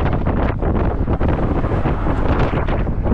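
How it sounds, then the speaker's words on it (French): Strong wind buffets the microphone outdoors in stormy weather, a loud, continuous roaring rumble that lasts throughout, with no voices over it. "il y a un peu de vent"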